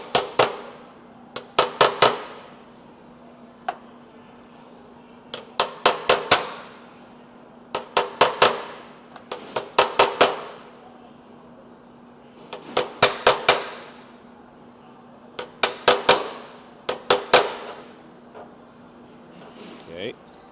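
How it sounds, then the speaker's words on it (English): Repeated hammer strikes on dented car body metal in a luxury car repair shop, arriving in quick clusters of three to five sharp, ringing taps with short pauses between, close and crisp over a steady low hum. "Now, I'm pushing it out towards me. I'm going to hammer down."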